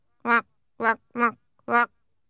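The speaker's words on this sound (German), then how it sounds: "Eine Ente." Four loud, close duck quacks, evenly spaced in quick succession, with nothing else around them.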